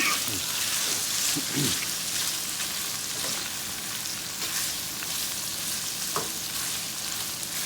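A steady, loud sizzle of sausage and rice browning in a pan, a dense frying crackle throughout, with a few scraping stirs of a utensil mixed in.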